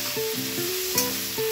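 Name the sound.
onions frying and being stirred in a pan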